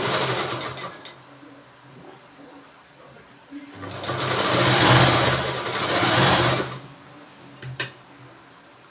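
A sewing machine runs in loud bursts while stitching tucks into fabric, with a long steady run in the middle and quieter pauses, and a voice talks between the runs.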